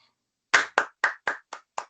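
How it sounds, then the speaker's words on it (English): A single person claps six times in quick, even succession, sharp and close, each clap a crisp slap, with silence before the first clap. "Do I clap now?"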